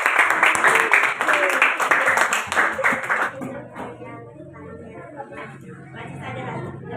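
Classroom clapping for a student group during a school lesson, a loud burst of rhythmic hand claps for about three seconds that stops abruptly, followed by quieter murmuring and chatter from the room.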